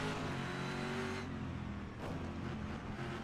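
A Chevrolet Camaro GT3 race car engine in the rFactor 2 racing game, a deep booming drone that holds steady, briefly dips and then picks back up, heard alone without talk.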